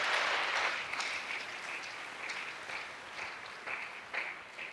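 A church congregation claps in sustained, dense applause during a Sunday service, loud and continuous at first, then easing into a steady patter with a few sharper bursts.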